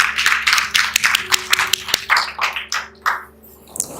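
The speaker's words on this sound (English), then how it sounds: "another round of applause, please, for this amazing event" Scattered clapping at a charity gala ball, with loud, distinct individual claps in an irregular rhythm, each ringing out close by against a low background hum.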